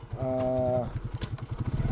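A motorcycle engine revs on a steep hillside road near a twin tunnel bypass project, first a sustained droning rev with rising pitch, then a rhythmic chugging pulse as it labours, loud and close.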